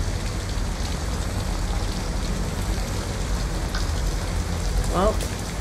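Steady rain falling in the video game Detroit: Become Human, an even hiss of drops on surfaces that holds constant throughout, with a brief higher sound near the end.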